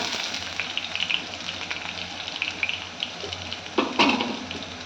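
Onions fry in a pan with a steady, close sizzle, broken by occasional scrapes and clinks of stirring near the end.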